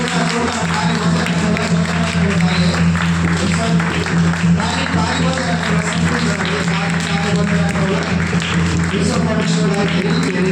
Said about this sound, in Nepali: उहाँको लागि हामी जोरदार ताली बजाउन सकिरहेछौँ